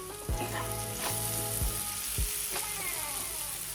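Kathiyawadi-style pumpkin sabji cooks in a pan with a constant close sizzle and bubbling, crossed by several short, downward-sliding squeaky tones.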